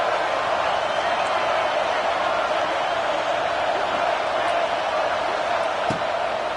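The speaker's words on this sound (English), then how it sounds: "This crowd knows when to bring it" Steady roar of a stadium crowd in the College Football 26 video game, a loud broad wash of cheering noise that holds constant throughout with no clear breaks.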